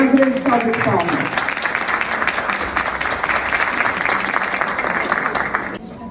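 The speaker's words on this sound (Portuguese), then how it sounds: "Por favor, uma grande salva de palmas." An audience at a nutrition science talk breaks into sustained, dense applause that holds steady, then trails off at the end.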